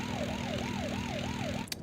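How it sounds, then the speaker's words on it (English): A police car siren in the video game Bully wails up and down in a steady repeating cycle over a low engine hum, loud and continuous, then cuts off with a brief click. "The cop car siren ruined it."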